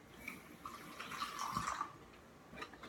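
Water trickles and splashes faintly into a container as it is added to a homemade slime mixture, a soft, quiet pour with no voices.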